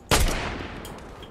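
A single loud, close gunshot from a new gun in Fortnite, a sharp blast that rings out and decays over about a second.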